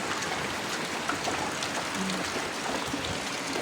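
Steady rain falls in a continuous even hiss, with the faint patter of drops landing on surfaces nearby.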